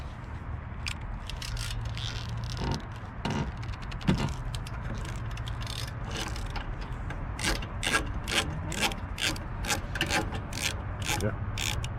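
A ratchet with a 10mm socket loosens bolts on the brackets of a WEN DF475T generator, producing bursts of rapid, close clicking against a steady background hum.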